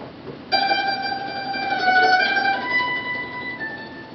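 Mandolin melody played with tremolo picking, sustained shimmering tones entering after a brief pause and holding steady, a few pitch changes along the way, clear and close with no voices.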